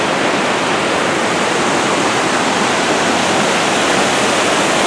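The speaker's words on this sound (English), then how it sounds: "First ride we come to in this area is Sawmill Log Flume." Water rushing along the Sawmill Log Flume ride at Six Flags Great Adventure in Jackson, New Jersey, a loud, steady roar of churning water that continues without a break.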